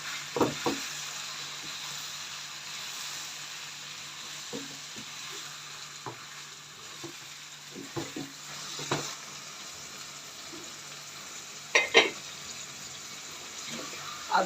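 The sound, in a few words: keema with green chillies frying and being mixed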